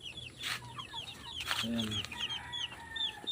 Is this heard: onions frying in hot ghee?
no